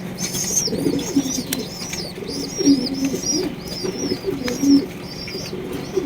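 A pair of Blackless pigeons coo repeatedly near the listener, low soft rolling calls in a loose rhythm, with faint higher chirps and a little wing movement in a quiet room.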